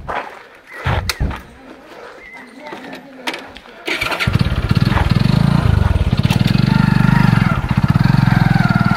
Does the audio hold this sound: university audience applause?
no